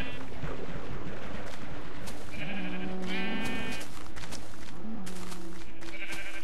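Sheep bleating in the Minecraft video game, several wavering game-sound bleats in quick succession over a busy backdrop of other game noise, fairly loud and close with no talking.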